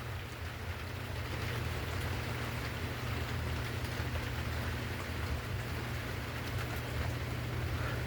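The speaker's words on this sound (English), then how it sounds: "It's a chilly little rainy day today." Steady rain falls on a chilly day, a soft even patter with dense droplet hiss running without pause over a low background hum; no one speaks.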